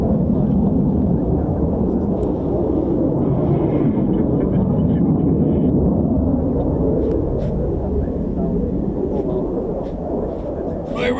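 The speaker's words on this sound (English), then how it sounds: "oh, it's a pretty little plane up there, isn't it?" An F-35B stealth fighter jet roars overhead at an air show, a loud, steady, broad rumble that holds for several seconds and fades only slightly near the end, with people talking faintly underneath.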